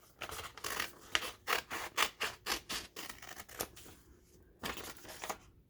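Scissors snip through a folded sheet of paper, cutting a wavy line in a series of quick close crisp cuts in an uneven rhythm, with a short pause before a final few snips.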